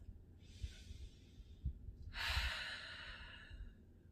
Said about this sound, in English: Take one deep cycle of breath.